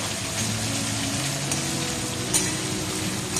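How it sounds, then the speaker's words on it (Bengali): A pan of frying food, with green chillies about to be added, sizzles steadily and close up with a dense, continuous crackle throughout, and no one speaks. "এদিকে দেখতেই পাচ্ছ ভাজাটা হচ্ছে"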